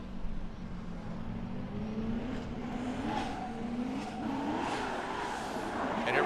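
A Subaru BRZ drift car at Formula Drift Long Beach knockout qualifying, sweeping through turn 14 and tapping the wall: a loud, sustained engine howl with rising revs and tire squeal, continuous and close throughout.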